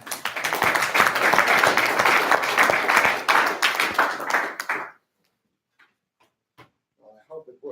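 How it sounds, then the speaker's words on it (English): At a tech meetup an audience applauds a speaker with close, crisp clapping for about five seconds, then it stops abruptly and leaves near silence with a few faint bumps and a brief voice. "Give a round of applause for Mr. Andy Lurling."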